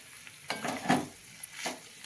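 Ginger, garlic, green chilli and coriander paste with curry leaves sizzles in a hot pan while the paneer curry is stirred. Soft frying hiss comes in short bursts, with no talk.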